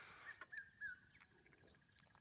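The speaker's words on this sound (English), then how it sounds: "And you have the very distinct call of the red-chested cuckoo." A red-chested cuckoo calls at dawn on an African safari, a faint repeated whistled phrase carrying from a distance over a low outdoor ambience with other soft bird chirps.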